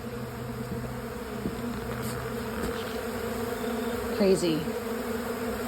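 Thousands of honey bees swarm around leftover honeycomb, a dense continuous buzzing hum close by, with individual bees zipping past near the listener; a person briefly speaks.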